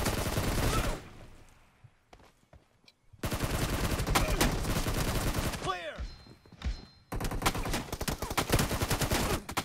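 First-person shooter game gunfire played on an iPad comes as dense, loud bursts of rapid automatic fire, cut by short quiet gaps with scattered shots, then resuming at full intensity.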